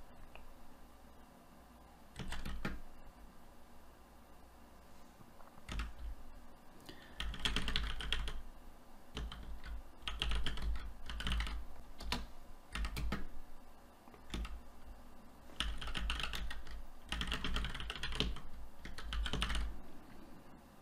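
Clattering computer keyboard as someone types code, bursts of rapid key clicks separated by short pauses, close and fairly quiet, no talk.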